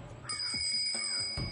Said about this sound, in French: C'est une sonnette, vas-y, essaie-la.